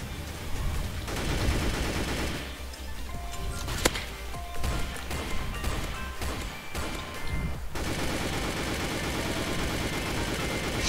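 Gunfire in the Roblox game Mad City during a volcano boss fight: dense, continuous bursts of rapid shots and crashes form a loud, sustained barrage with a single sharp blast standing out, and no talk is heard.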